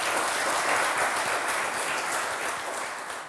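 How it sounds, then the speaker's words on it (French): Steady applause from a quiz-show audience for the contestants, a dense wash of clapping that holds at even strength and fades slightly toward the end, fairly distant and with no talk over it. "Merci d'applaudir mes candidats."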